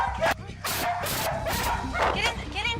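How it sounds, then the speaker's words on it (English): A dog being evacuated from an animal shelter threatened by a wildfire barks, yips and whimpers in several close, loud bursts, with a person's voice speaking over it. "That's a good dog."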